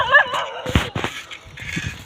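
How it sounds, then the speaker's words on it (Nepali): Street dogs in a Kathmandu settlement give sharp close barks and yips mixed with a high whining whimper, in short bursts with brief gaps between them. "कुकुरहरु भेट भएको छ।"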